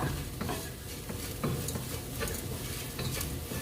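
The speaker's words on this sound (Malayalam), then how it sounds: "ഇഞ്ചിയും തേങ്ങാപ്പീരിയും ഒക്കെ ഒന്ന് മൂത്ത് തുടങ്ങിയിട്ടുണ്ട്." Ginger and grated coconut roast in a pan for a Kerala puli inji curry, giving a continuous dry sizzle broken by repeated scraping strokes of stirring, close and steady, with no talking.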